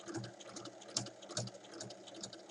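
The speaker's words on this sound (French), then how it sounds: "Et on va venir faire une surpiqûre à 1 mm tout le long." Domestic sewing machine topstitching 1 mm from the edge of a bag panel, a quick run of rhythmic mechanical needle clatter with small bursts of louder stitches, close and alone.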